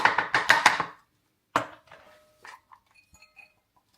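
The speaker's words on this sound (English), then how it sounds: "just chop them up nice and rugged really" Knife chopping celery sticks on a cutting board at a wild camp: a quick run of five or six sharp, close chops, then a single chop followed by a few lighter scattered taps and clinks.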